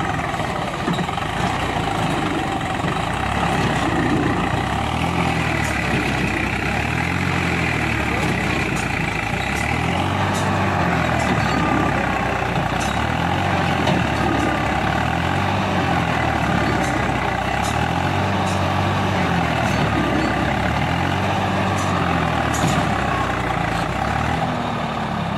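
Tractor engines, a John Deere 5050D and a Mahindra 575 DI, working hard while trying to pull out a stuck tractor, a loud continuous diesel drone with a slow rhythmic throbbing pulse throughout.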